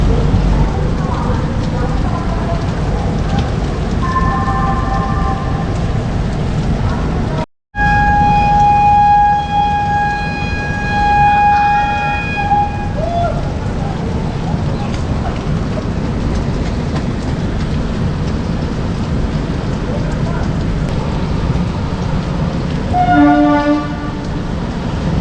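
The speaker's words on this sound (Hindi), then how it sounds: "बाहर देखिए कितनी ज़्यादा बारिश हो रही है" Heavy rain at Sirhind railway station heard from inside a stopped Shatabdi coach, a steady loud hiss of rainfall with train horns sounding distantly at intervals.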